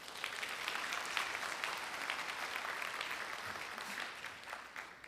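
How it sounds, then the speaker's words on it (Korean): Audience at an entrepreneurship concert and awards ceremony clapping after a startup presentation, a sustained, even round of applause lasting several seconds, heard from a distance at modest volume. "박수 한번 쳐주십시오"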